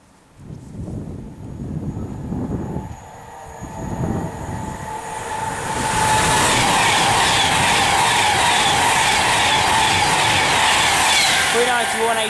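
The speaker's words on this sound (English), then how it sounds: "But here comes another Pendolino." A Pendolino train rushes through Cheddington station, its rumble building from a distant approach to a loud, roaring pass with wheel squeal, while a person talks early on.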